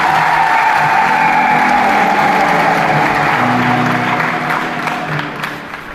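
A church congregation at an Easter Mass applauds loudly and continuously, with high ululating cries riding over the clapping before it begins to fade near the end.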